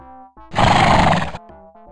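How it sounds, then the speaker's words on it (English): Stallion named Thunder in the video game Touché whinnies loudly and close, a single long neigh of about a second set between quieter background music. "there's my prize stallion, Thunder"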